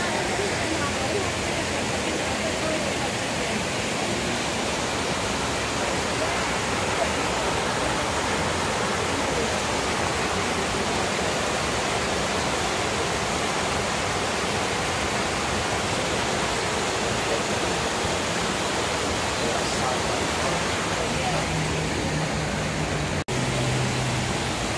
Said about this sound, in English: Oh yeah, waterfall.